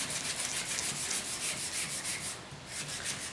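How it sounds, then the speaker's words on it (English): Steady back-and-forth sanding on the tailgate of a 1972 Ford 4x4 pickup during paint prep, a close, continuous rasping rub with regular strokes that briefly ease off near the end. "sanding this stuff up"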